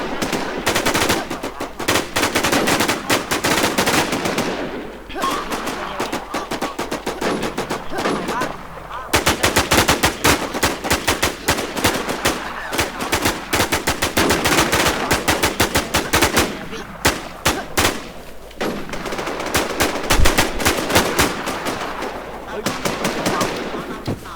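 Gunfire from the Infestation survival shooter crackles in repeated rapid bursts and single loud shots over about twenty seconds, close and harsh, with brief pauses and someone talking excitedly over it.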